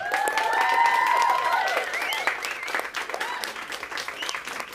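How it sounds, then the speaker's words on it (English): Audience applause with some cheering and whistles for panel guests at a screening event, sustained and dense throughout, gradually thinning toward the end. "Can we give them a round of applause?"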